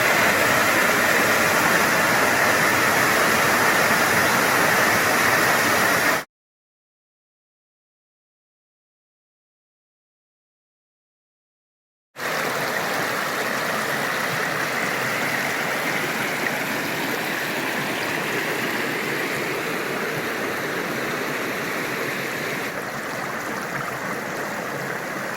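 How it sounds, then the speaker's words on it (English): Waterfalls and a stream rushing below a steep wooded hillside on a hiking trail, a loud, continuous roar of falling water broken by several seconds of total silence before the flow resumes unchanged. "There's a couple of very nice waterfalls down there."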